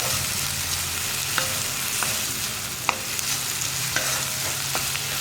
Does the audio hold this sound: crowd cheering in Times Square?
no